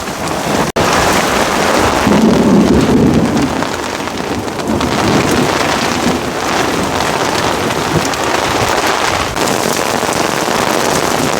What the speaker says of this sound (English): Now we got some good rain coming down.